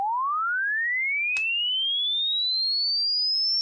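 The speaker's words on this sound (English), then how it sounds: "We start with that 440 and we get a sweeping tone with a sine wave." A pure sine tone sweeps smoothly upward from 440 Hz to a high whine, with one brief click partway through.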